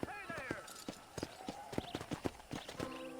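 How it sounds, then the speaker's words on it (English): Horse hooves clip-clop in a steady riding rhythm in the Red Dead Redemption video game, close and fairly loud, with game dialogue talking over the hoofbeats. "let's see if you can still ride a horse"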